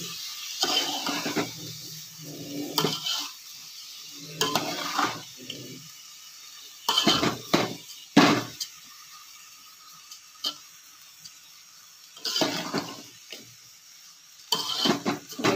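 Rice fried in ghee with cashews and raisins for sweet pulao: intermittent bursts of spoon clinks and scraping against the pan, with a soft sizzle and quiet gaps in between.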